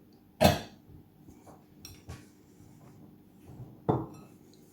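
Soft clinks and scrapes of utensils against dishes as food from a tin of canned meat is moved onto a plate, a few sharp taps spaced apart in an otherwise quiet room.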